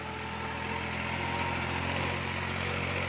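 A New Holland 4x4 tractor engine runs steadily, a dense, continuous mechanical drone with a low harmonic hum holding even throughout, close and loud with no voices.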